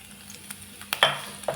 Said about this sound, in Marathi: तेल हे आपलं गरम झालेलं आहे याच्यामध्ये आधी टाकते मी अद्रक आणि लसूण